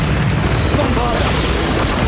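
A Bombarda spell explosion in the Hogwarts Legacy video game, a loud, close boom with a dense rumbling body filling the whole short moment.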